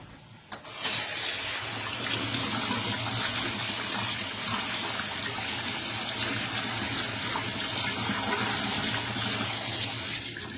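A kitchen tap runs steadily over cut Alexandrian squid being lightly rinsed, a loud continuous gush of water that starts abruptly and flows without pause.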